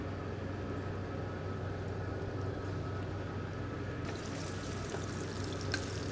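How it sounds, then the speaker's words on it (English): Bacon-wrapped salmon in a hot sauté pan gives a soft, steady sizzle that continues evenly throughout, faint, with no talking. "I'm just going to crisp up that bacon."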